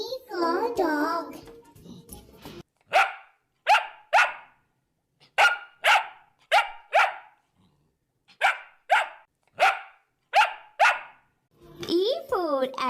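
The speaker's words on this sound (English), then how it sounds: "D for dog." A dog barks in quick bursts, around fourteen sharp close barks in uneven groups of two and three, with someone speaking just before and after.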